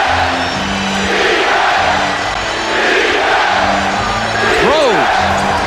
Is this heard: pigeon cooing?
no